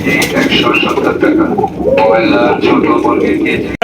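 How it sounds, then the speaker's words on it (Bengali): Lahori pigeons coo in soft, low, repeated bursts close by, with a person talking over them much of the time. "রয়েছে আরো একজোড়া লাহোরি কবুতর দেখতে পাচ্ছেন"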